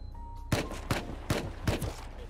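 Bursts of video game gunfire from a friendly-fire incident, four sharp shots spaced about every 0.4 seconds, loud and close over a low steady background hum.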